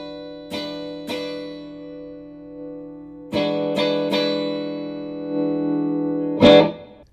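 Clean electric guitar through a Mesa Boogie Mark V:25 amp, mids cut fully, rings out chords with a hollow, scooped tone, struck several times with long sustains, then a final brighter strum near the end.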